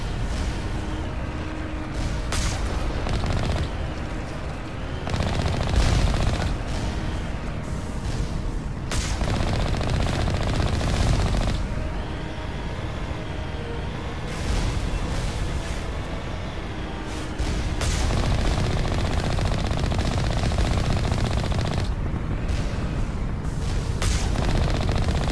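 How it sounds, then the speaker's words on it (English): Heavy turrets in the video game Mass Effect fire in loud, sustained barrages, dense rattling gunfire and booming blasts that rumble on for long stretches with only short breaks, with no voices over it. "heavy turrets about to keep shooting at me"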